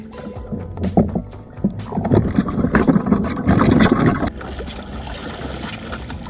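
A kayak moves across a lake, with irregular paddle splashes and water swishes building and fading over several seconds, close to the microphone, with wind buffeting in the background.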